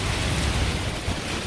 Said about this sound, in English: When you have raining season, you have these kind of torrential storms or torrential rains.